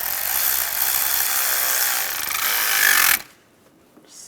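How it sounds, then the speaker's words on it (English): A worm clamp on a coolant hose is tightened with a power tool on a 1996-2002 Toyota 4Runner engine, a loud, close, continuous whirring grind for about three seconds before stopping abruptly into near silence. "Put the worm clamp in place and we'll tighten that down."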